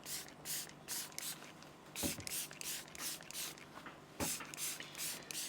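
Water repellent spray hisses onto a pair of leather hunting boots in repeated short bursts, some longer, close and quiet in a still room.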